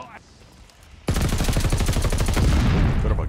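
Rapid automatic rifle fire with tracer rounds in a Call of Duty multiplayer match bursts in abruptly after a quiet second, a loud, fast, evenly spaced string of shots running to the end.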